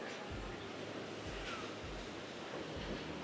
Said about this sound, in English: Huge water. ఎంత ఫోర్స్తో వస్తుంది చూడండి.